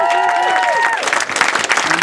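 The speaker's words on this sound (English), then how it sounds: "applause." Wedding guests break into loud, sustained applause at a reception speech, a dense crowd clapping close by with some murmuring and cheering mixed in.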